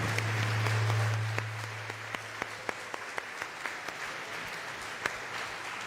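A church congregation at a French-language worship service applauds in scattered, rhythmic claps that stand out sharply over a low hum and gradually thin out.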